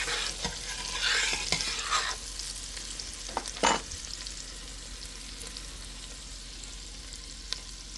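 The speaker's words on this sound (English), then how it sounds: "take that melted stick of butter and put our onions in and let them cook for just a bit" Onions cooking in a pan of melted butter, a soft steady sizzle with a few louder stirring scrapes and clinks near the start, otherwise a quiet continuous hiss with no talking.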